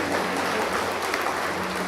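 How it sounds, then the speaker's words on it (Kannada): Steady applause from a seated audience at a Karnataka Chief Minister's medal award ceremony, greeting a medal accepted on a recipient's behalf; dense even clapping fills the hall at moderate level throughout. "ಚಪ್ಪಾಳೆಯ ಗೌರವ"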